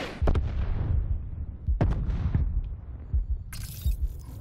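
A Hellion rocket launcher fires with a sharp crack, followed by loud blasts, echoing booms and scattered gunfire in a Call of Duty Blackout match; several distinct impacts land across a few seconds, close and harsh, with no talking.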